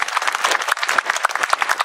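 A seated audience at a veterans monument event in Estes Park claps for the town mayor, a fairly dense round of many hands close by, steady and lively for a couple of seconds.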